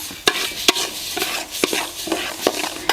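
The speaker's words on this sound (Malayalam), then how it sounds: "കരിഞ്ഞു പോവാതെ ഇതുപോലെ തന്നെ അങ്ങ് വറുത്തെടുക്കണം" Green gram dry-roasting in a thin pan, stirred with a utensil: a soft steady rustle broken by sharp scraping strokes about every half second, close and fairly loud, no talking.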